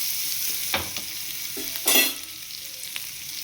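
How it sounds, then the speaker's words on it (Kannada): Paneer masala fries in a pan with a soft continuous sizzle, punctuated by a few scraping stirs, close by and fairly quiet. "ನೋಡಿ ಫ್ರೈ ಆಗ್ತಾಯಿದೆ."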